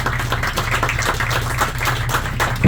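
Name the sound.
round of applause for the congressman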